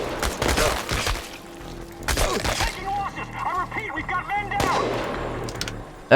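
Sniper rifle shots in the game Chernobylite ring out as several loud, sharp cracks spaced a second or two apart, over a rumbling background with a voice speaking in between.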